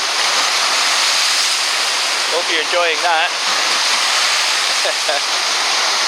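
Continuous roar of sea waves crashing against a breakwater of old cement chunks, loud and near, with a person talking briefly over it partway through.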